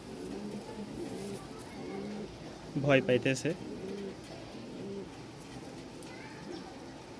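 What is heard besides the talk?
male Giribaz pigeon cooing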